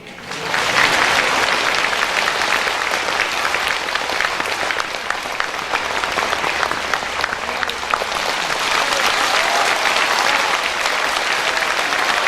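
Audience clapping at a spiritual gathering in Taiwan, a dense, loud, sustained round of applause from many hands that holds steady for about twelve seconds.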